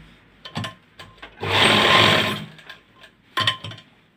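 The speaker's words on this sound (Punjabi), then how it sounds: "ਕੰਨੀ ਦੀ ਸਲਾਈ ਲਗਾ ਦੇਣੀ ਆ ਆਪਾਂ ਇੱਥੇ" A sewing machine stitches along the edge of a shirt cuff in one smooth, close whirring run of about a second, framed by sharp clicks and taps of the machine being handled before and after.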